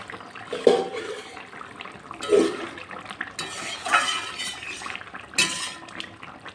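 A lid lifted off a cooking pot of simmering curry, with a few metallic clanks and scrapes over a steady hiss of steam and bubbling.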